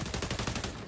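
Rapid automatic gunfire from the video game XDefiant, a short burst of evenly spaced shots, loud and close.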